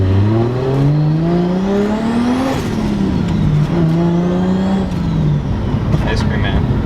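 Lexus IS300 on its first drive after a suspension rebuild, the engine revving up through gears with rising tone, shifting and settling, heard loud from inside the cabin while people talk.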